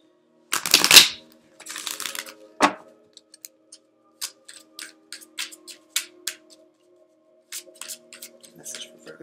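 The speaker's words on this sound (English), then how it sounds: "now I'm going to pull a Lightworker Oracle card for Virgo" Lightworker Oracle cards shuffled and drawn from the deck: a loud riffling burst, a second flutter, then a run of light, scattered card taps and flicks, close by with no talk.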